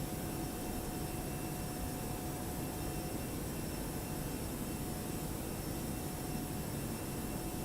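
ToLiss A321 NEO jet engines in X-Plane 11 climbing toward cruise altitude, a steady, continuous broadband roar with faint tonal whine held at even loudness throughout, no voices.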